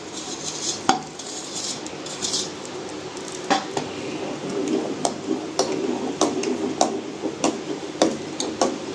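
A spoon clinks repeatedly against a metal pan while carrot kheer with sugar and cardamom powder is stirred, a string of sharp, close metallic taps in a loose rhythm over faint background noise.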